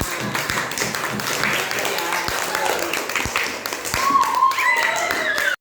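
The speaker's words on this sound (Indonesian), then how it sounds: "Mari kita beri tepuk tangan." A classroom group applauds after a student presentation in an Indonesian teaching session, a continuous patter of many hands clapping at moderate loudness that swells briefly near the end and then cuts off.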